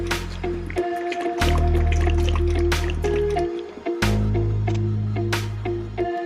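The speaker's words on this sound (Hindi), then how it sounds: "अब हम इसे बाल्टी में कंक्रीट को डालते हैं और ब्रिज के ऊपर डालते हैं" Wet concrete slops from a bucket onto a small DIY concrete bridge built for a toy tractor. The squishing, dribbling pours come in two long stretches over a steady low mechanical hum.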